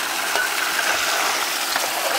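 A high banker gold sluice box running with water, giving a dense, steady rushing wash with faint rattling of gravel, loud and close and continuing unbroken without voices.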